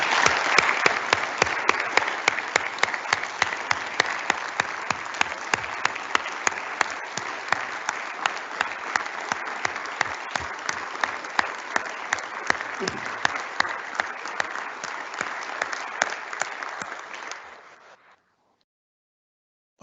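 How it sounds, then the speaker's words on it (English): Sustained audience applause in the chamber during the North Dakota governor's 2021 State of the State address, steady dense clapping for about seventeen seconds before cutting off abruptly. "Let's give them a round of applause."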